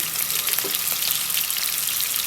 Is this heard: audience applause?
no